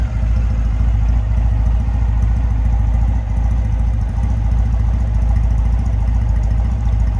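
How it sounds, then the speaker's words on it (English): A 2009 Triumph Bonneville 50th Anniversary motorcycle idling: a close, loud, even engine thrum with a steady low pulsing lope and slight mechanical clatter, running continuously without speech. "Nice idle, nice little lobe to it."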